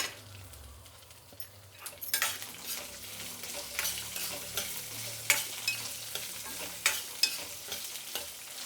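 Toor dal and onion fry in a pan with a steady sizzle, while a spoon stirs and scrapes against the metal in repeated clinks that grow busier partway through.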